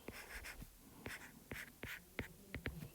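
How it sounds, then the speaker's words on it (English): Pen writing out a density formula on paper, close and quiet, with short scratchy strokes and taps in an irregular rhythm and small pauses between marks. "So we're just going to write that out."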